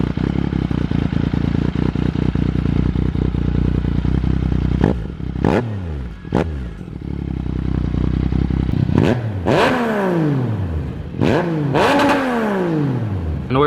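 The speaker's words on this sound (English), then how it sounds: "these GP style exhausts, they sound pretty good on the FZ-09" A Yamaha FZ-09 motorcycle fitted with GP style exhausts idles with a raw, loud rumble, then is revved hard several times, each sharp rise in pitch falling quickly away, close to the microphone.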